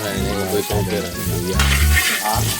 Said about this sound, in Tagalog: So bago no, igigisa mo na siya. So sisimulan mo na sa luya.